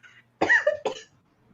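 A person coughs twice in quick succession, close and fairly loud, after a faint breathy sound, with near silence following.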